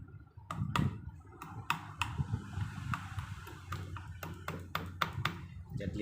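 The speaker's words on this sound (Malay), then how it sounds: "Kalau macam tu ambil hammer, ketuk sikit." A hammer taps the drive shaft of a Proton Savvy with an automatic gearbox into place, sounding as a series of sharp, close metallic knocks at an irregular rhythm over a low workshop rumble.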